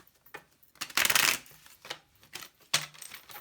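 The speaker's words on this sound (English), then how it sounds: "Let's give it one last shuffle for my dear pile 1." Tarot cards are shuffled in quick bursts, a few short riffling flutters and soft slaps close by, with one louder, longer riffle near the start.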